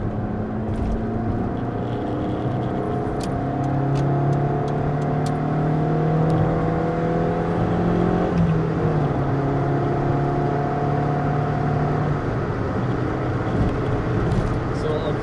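A Honda CRX ED9 accelerates up a highway on-ramp, its engine droning loud and steady from inside the cabin while the pitch climbs through the gears.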